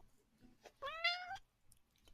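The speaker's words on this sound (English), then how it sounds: "Stop with the meowing." A single clear cat meow, close and fairly quiet, rising then falling in pitch, preceded and followed by faint soft clicking or chewing sounds.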